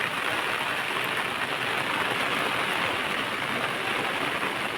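Heavy rain falls steadily around a house with a rooftop terrace, a dense, constant wash of drops heard up close without pause or voices.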